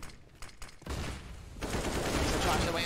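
Mac 10 submachine gun fire in a Counter-Strike match on the Inferno map, a dense, rapid burst that swells to a loud sustained rattle after a few faint scattered shots, under a caster's voice.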